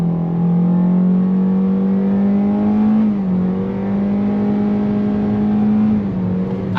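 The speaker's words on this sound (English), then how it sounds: "pulling away, we're gonna go on throttle." A 2024 Kia Seltos S with a naturally aspirated inline-four engine and IVT accelerating from a pull-away, a loud steady engine drone rising in pitch, with two brief dips like simulated shifts, heard from inside the cabin.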